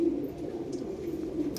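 Pigeons coo softly and steadily throughout, a low murmuring call from nearby birds, heard alone with no voices.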